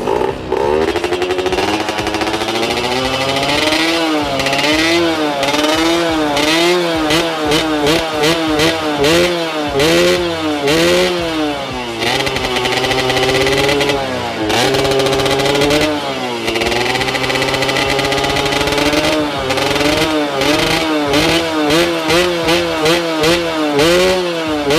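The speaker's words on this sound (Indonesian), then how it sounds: "Nih saya sepilkan geberannya ya guys." A Yamaha F1ZR two-stroke motorcycle engine with a standard membrane revs repeatedly up and down, loud and close, in rapid rising and falling bursts over a steady idle.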